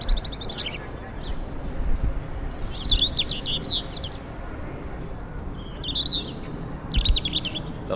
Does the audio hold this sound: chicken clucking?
no